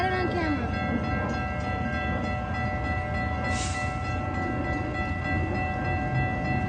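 A Metra heritage-unit commuter train passes Edgebrook station with a steady, loud rolling rumble and wheel noise, and a horn sounds partway through.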